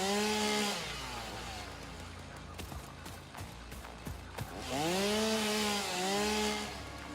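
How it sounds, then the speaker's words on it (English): A video game chainsaw revs loudly in bursts, its engine whine rising and falling through a steady grinding roar, with a quieter choppy stretch in the middle before a second strong rev. "I'm just about to use my chainsaw for the first time"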